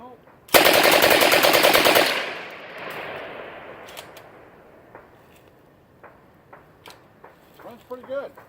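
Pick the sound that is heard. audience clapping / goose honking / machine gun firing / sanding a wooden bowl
machine gun firing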